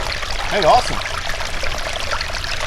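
Water pours quickly into a one-liter container at a wilderness campsite, making a steady close splashing rush while a person talks over it.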